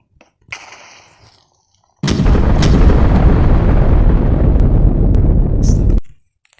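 In Minecraft, after a brief hissing sound, a loud explosion erupts and roars continuously for about four seconds before cutting off abruptly.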